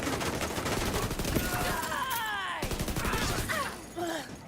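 Rapid automatic gunfire in The Division video game, a dense, steady stream of shots running throughout, loud and close, with game effects and faint voice sounds mixed in.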